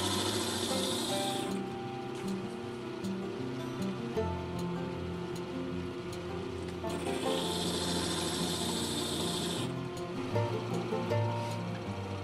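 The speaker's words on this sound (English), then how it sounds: "cutting the first of the crown facets here." Faceting lap with a 360 grit surface grinding crown facets on a synthetic sapphire gemstone, a steady whirring, scraping drone throughout with two stretches of brighter hiss, moderately close and with no talk.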